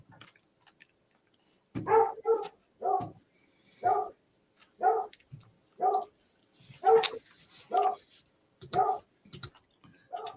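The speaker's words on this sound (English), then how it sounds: "Can you guys all hear that doggy?" A dog barks in a run of about ten short, evenly spaced barks, some with a whimpering edge, fairly close and clear over an otherwise quiet room.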